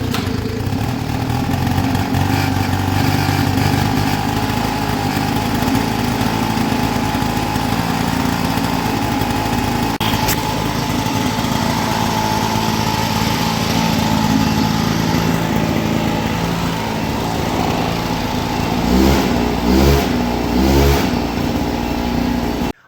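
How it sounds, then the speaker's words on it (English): A free two-stroke mini motorcycle engine runs loud and continuous, with a buzzing, droning idle that holds steady and then blips into a few revs near the end. "Let's give it a few pulls and see if it will run now."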